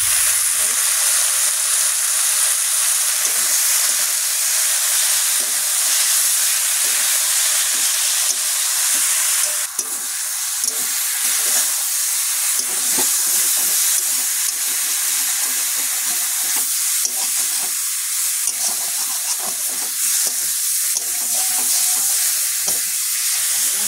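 Washed amrul greens hit hot oil in a frying pan, giving a loud, steady sizzle and hiss that runs throughout, with stirring scrapes and a burst of steam near the middle.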